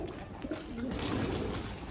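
Soft cooing of pigeons feeding in a pigeon loft close by, low and muffled, continuing over a gentle background murmur.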